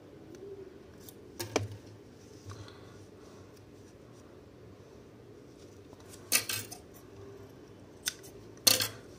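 Scissors snip paper for a handmade craft flower, a few short, sharp cuts spaced irregularly with quiet handling noise in between, close and fairly soft.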